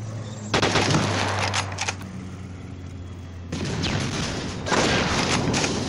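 Bursts of video game sniper gunfire sound in two clusters of sharp cracks, one early and one later, over a low steady hum, with a quieter gap between them.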